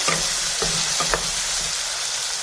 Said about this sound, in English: Now add green chilies. Now add narthangas. Mix it thoroughly.